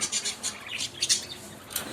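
Pet budgerigars chirp in quick, bright bursts, a string of short high tweets repeating every fraction of a second, close and moderately loud with no talking.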